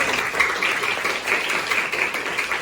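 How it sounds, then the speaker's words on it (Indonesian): Steady applause from a school classroom, many hands clapping together in a dense, continuous patter that stays fairly loud throughout. "Beri tepuk tangan untuk kalian"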